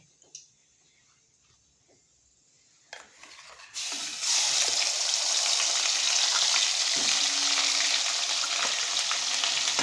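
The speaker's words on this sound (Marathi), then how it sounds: "टोमॅटो हे थोडंसं प्रमाणात परतून घेऊन पेस्ट केलेले आहे आणि मी आता हे वाटण तेलामध्ये परतण्यासाठी टाकणार आहे" Ground onion, garlic and tomato masala paste drops into hot oil with a couple of clatters, then sizzles loudly and steadily for several seconds close by.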